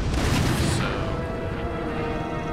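Cannon fire from 12-pounder foot artillery in a Total War battle game, a loud booming blast at the start that fades into a continuous low rumble of battlefield noise.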